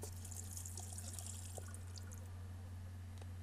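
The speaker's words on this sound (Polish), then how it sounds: "Tak, skorzystaj i weź prysznic." Steady hiss of running shower water in The Sims 4, with light drips and trickles throughout, low and constant with no talk.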